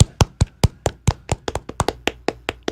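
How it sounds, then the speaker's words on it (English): Clapping on a radio broadcast: a rhythmic series of sharp, close hand slaps at a steady, slightly quickening pace, with no talk over them. "You're supposed to clap at that point."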